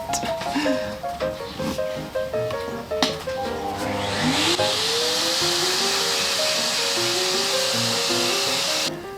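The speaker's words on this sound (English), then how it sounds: "Everything is getting vacuumed at the moment." A vacuum cleaner in a garage switches on partway through, its motor whining up in pitch, then runs loud and steady; softer tonal sounds play before it starts.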